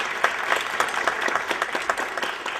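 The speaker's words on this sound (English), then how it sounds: "We give them one more round of applause." A symposium audience at the University of Maine at Fort Kent gives its keynote speakers a short, steady round of applause, with many hands clapping densely at a moderate distance.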